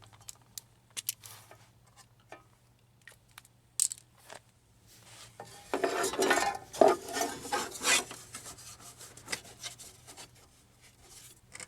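Rusted metal on a minivan's lower door track is cut off with a rasping, grinding scrape. Scattered ticks come first, then a sustained rough cutting passage swells and fades back to intermittent scrapes.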